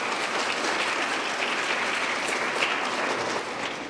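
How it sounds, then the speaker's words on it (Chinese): Steady, dense applause from an audience at a ceremony honouring Taiwan's cybersecurity team, sustained and fairly loud for the whole stretch with no voices over it. "也请大家给自己一个掌声"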